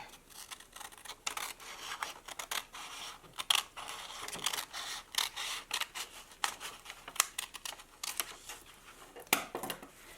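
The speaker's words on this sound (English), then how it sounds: "I'm just going to get some scissors and cut this" Scissors cutting through a folded sheet of paper for an origami crane, a close series of quick crisp snips and slicing rasps, quiet and with no talking.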